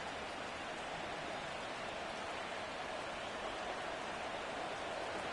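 Steady rain falls through a football game in the Madden video game, a constant even hiss with no pauses or gaps, moderately loud and filling the whole stretch on its own.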